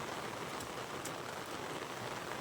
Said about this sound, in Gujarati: વરસાદ વધતો જાય ધીમે ધીમે